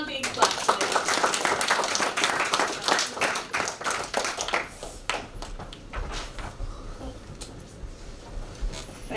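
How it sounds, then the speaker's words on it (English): Applause at a school assembly: an audience claps in a dense, lively burst that tapers off into scattered claps and room noise. "let's give them one big clap today"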